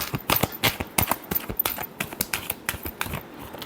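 Tarot cards get a final quick shuffle, a rapid run of crisp, close papery snaps and flicks lasting a few seconds, with no voice over them.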